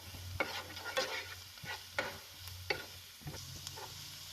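Shredded cabbage sautéing in a pan gives a soft background sizzle, broken by sharp, evenly spaced scrapes and clacks of a stirring spoon, with no talk.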